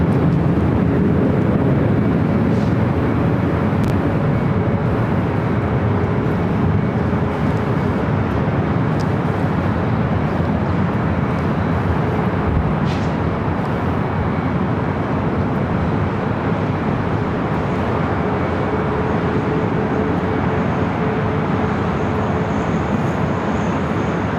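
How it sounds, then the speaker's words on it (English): A NetJets Bombardier Challenger 350 business jet from Chicago comes in to land at LAX, giving off a steady, moderately loud rumbling whine that persists throughout with no voices. "Its arrival is a NetJets flight 772 coming in from Chicago, outside of Chicago, a Bombardier Challenger 350."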